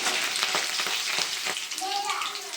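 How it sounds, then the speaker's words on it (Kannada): Green chillies and curry leaves frying in hot oil for upma, a steady loud sizzle and crackle with a few sharp pops, no talking. "ಈಗ ನೀವು ಹಸಿಮೆಣ್ಸಿನ್ಕಾಯಿ ಆ್ಯಡ್ ಮಾಡ್ಕೊಳ್ಳಿ ಆ್ಯಂಡ್ ಕರಿಬೇವು. ಸೊ ನೀಟಾಗಿ ಫ್ರೈ ಮಾಡ್ಕೋಬೇಕು."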